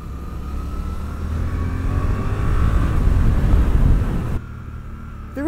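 Suzuki GSX-8S motorcycle engine pulling hard under acceleration, a steady loud drone that swells and then drops off abruptly, with wind rush over the microphone throughout.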